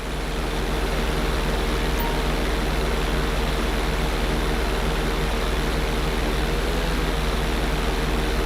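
A propeller plane flying in Grand Theft Auto 5 gives a loud, unbroken engine drone with a steady low hum and humming tones throughout, and no one speaks.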